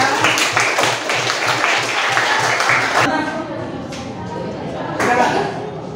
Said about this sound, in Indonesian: Tepuk tangan dong buat temannya.